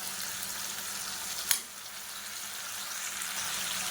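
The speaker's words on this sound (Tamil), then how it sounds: "இது எல்லாத்தையும் நல்லா வதக்கிக்கலாம்." Tomato, onion, drumstick, brinjal, beans and carrot sautéing in oil for horse gram sambar, a steady close hiss of frying with one sharp utensil tap midway.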